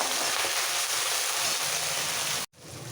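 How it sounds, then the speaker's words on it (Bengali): A small splash of water meets reddened fried onions in hot oil, giving a continuous, dense, rushing sizzle that runs close and loud for over two seconds before abruptly cutting off. "বাকি মশলা দেওয়ার আগে একটু জল দিয়ে দিলাম"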